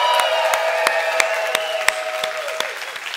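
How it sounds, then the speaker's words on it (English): A church congregation claps and cheers in congratulation, a dense burst of applause with sustained whooping voices on top that gradually thins out, with a few sharp claps standing out. "So downtown campus, I need you to cheer for them."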